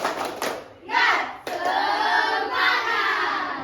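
A classroom of students performs a short clapping chant, a few sharp claps followed by a loud group shout and a sustained chorus of voices nearby.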